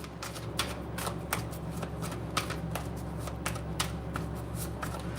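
Tarot cards are shuffled by hand in a quiet room, giving a run of soft, crisp riffling flicks at an uneven rhythm over a low steady hum.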